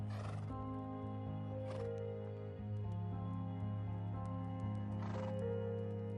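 Horses on the Kazakh steppe neigh and whinny, with several loud calls rising above a steady rumbling background and faint hoof clip-clops.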